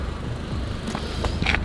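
A car engine with an upgraded blowoff valve hums low and steady, then revs, with short bursts of hissing air in the last second, close and fairly loud.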